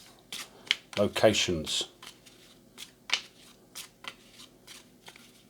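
Cardboard tiles from the Airborne In My Pocket print-and-play solitaire game are shuffled by hand in short scraping, riffling bursts. Someone speaks briefly between the bursts.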